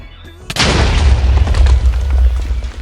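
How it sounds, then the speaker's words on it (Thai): A sudden heavy boom erupts into a long, roaring rush of noise that rumbles on for a few seconds, loud and close: a huge sandstorm explosion skill in Minecraft. "เป็นเหมือนระเบิดทรายพายุทรายขนาดใหญ่ทุกคน มันรุนแรงมากเลยทุกคน"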